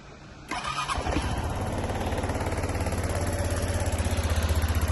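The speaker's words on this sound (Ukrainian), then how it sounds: "Скутер заводиться з півоберту працює гарно" A Suzuki Address V125 S scooter imported from Japan fires up after a brief crank and settles into a steady, close, pulsing idle that runs on alone with no voices over it.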